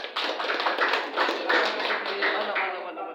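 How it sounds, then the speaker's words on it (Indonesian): A classroom group applauding after a presentation, a brief burst of steady clapping from several people nearby, with voices mixed in. "Berikan tepuk tangan untuk kelompok 4."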